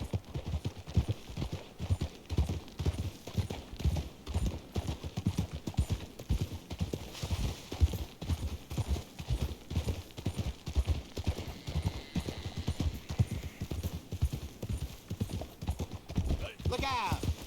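Horse hooves clip-clop at a rapid, steady gallop across open ground in the Red Dead Redemption video game, close and continuous, with voices talking over parts of it.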